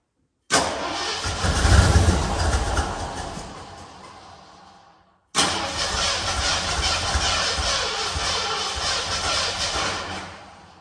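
A 1967 Ford F100 bumpside pickup, choked and fed from a fuel cell, cranks and catches twice: a loud engine burst that fades out, a brief pause, then a second start that settles into a steady close idle.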